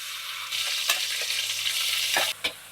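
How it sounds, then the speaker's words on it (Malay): Salted fish fries with ginger in a hot wok for Cantonese-style fried rice, a steady close sizzle broken by several spatula scrapes and stirs. "Goreng sehingga isi ikan ni menjadi keperang-perangan."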